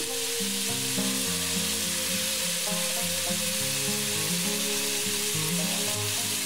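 Minced meat fries with oyster sauce in a pan for a spicy tantanmen ramen, giving a steady close sizzle throughout, partly masked by a continuous melodic music track of stepped tones.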